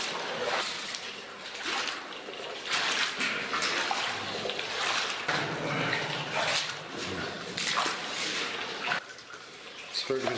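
Water sloshing and splashing through a muddy, wet old mine tunnel, steady near splatter and trickle running throughout, with people talking over it at times.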